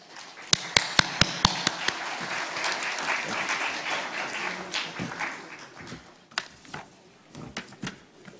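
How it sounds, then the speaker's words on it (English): Applause at the Nepal Investment Summit begins with a few sharp, distinct claps, swells into a steady round from the audience, then thins to scattered last claps as it dies away. "Please give a round of applause."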